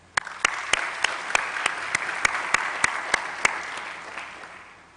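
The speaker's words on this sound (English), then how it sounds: "So graduates, let's applaud all of those that have supported you." Steady group applause at a university graduation ceremony in Gqeberha, with crisp individual claps standing out over a continuous wash of clapping at even strength.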